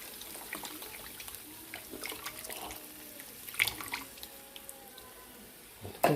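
Coconut milk is poured into a pasta gravy for prawn ribbon pasta, giving a faint, soft liquid trickle with scattered light splashes and drips over several seconds, ending in a louder clatter.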